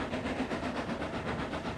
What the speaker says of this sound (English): Vinnie was pulling a heavy goods train to Great Waterton.